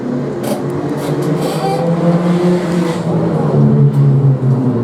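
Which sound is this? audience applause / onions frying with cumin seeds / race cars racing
race cars racing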